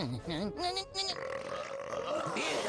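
A single drawn-out, voiced burp in a Hindi-dubbed Shaun the Sheep animated film, heard up front and followed by a dubbed voice speaking.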